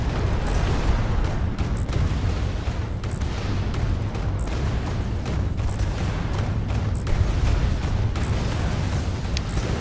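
Missiles explode in the space combat game Fractured Space, a dense continuous rumble of blasts and booms with rapid crackling bursts throughout, loud and unbroken, with no talking.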